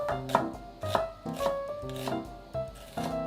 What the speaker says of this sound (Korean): 먼저 양파 반 개는 곱게 채 썰어 주세요